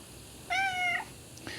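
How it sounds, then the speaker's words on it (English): An orange cat gives one clear, drawn-out meow outdoors, close by, followed by a short faint chirp, with no one speaking. "He just hangs out and patrols the area and meows at us like crazy."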